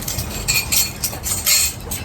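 Antique dinner plates and cutlery clink repeatedly during a hand-eaten meal at a provincial home, a few brighter clatters standing out over a steady low room murmur, close by with no talk.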